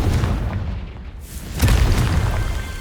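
A Confringo fire spell explodes in Hogwarts Legacy with a loud, deep boom about halfway through, trailing into a sustained rumble over constant game ambience.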